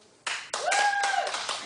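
A television talk-show studio audience claps in a short, dense burst. The applause starts abruptly and stays loud and steady, with a faint tone in the background.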